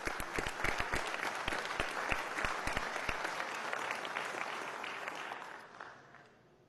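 Applause fills a session of Venezuela's National Assembly, a dense crowd clapping with a few sharp claps up front, sustained then fading out toward the end.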